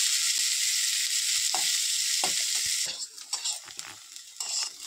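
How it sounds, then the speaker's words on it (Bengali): Chopped onion sizzles in hot oil in a pan with green chilli, a dense steady hiss that thins out as a spatula scrapes and clatters against the pan while stirring, close and clear. "পেঁয়াজ কুচি দিয়ে দিচ্ছি। এটাকে আমি ভালোভাবে নেড়ে নেব কিছুক্ষণ।"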